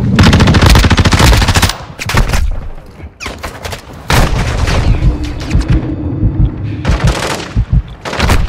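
Rapid automatic gunfire from an online shooter video game, with loud sustained bursts of machine-gun fire and booming shots broken by short pauses.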